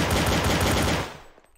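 Rapid automatic gunfire in Garry's Mod Trouble in Terrorist Town, a loud sustained burst of shots that cuts off and fades into a brief quiet tail.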